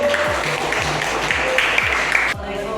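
Classmates at a university teacher-training session applaud a presenting group with a continuous wash of clapping under a speaking voice. It cuts off abruptly near the end.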